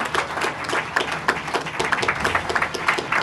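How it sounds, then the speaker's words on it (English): A pub crowd at a city council candidates' debate applauds the candidates, with continuous, fairly dense clapping from many hands at moderate loudness. "Round of applause for all the candidates."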